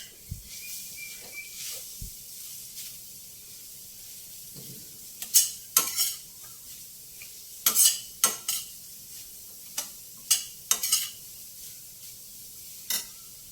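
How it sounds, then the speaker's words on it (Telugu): Grated carrot frying in a pan with a soft steady sizzle, broken by repeated sharp scrapes and clacks of a spatula stirring against the pan, close and alone. "పచ్చి వాసన పోయేంత వరకు వేయించుకోవాలండి క్యారెట్."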